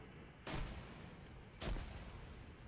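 Two heavy artillery blasts in the video game Arma 3, a little over a second apart, each a loud broadband boom with a rumbling tail over steady background noise.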